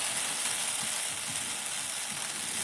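A continuous soft sizzle of a rice crepe frying on a wood stove, steady and close, with faint low crackles and no voices.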